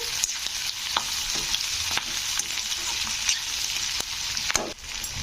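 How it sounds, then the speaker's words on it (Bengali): Onion and capsicum for chilli chicken sizzle steadily in a pan while being stirred, a continuous frying hiss broken by regular scraping strokes of the spatula, close and with no voices. "তো এইভাবে পেঁয়াজের সঙ্গে একটু হালকাভাবে নেড়ে নিতে হবে"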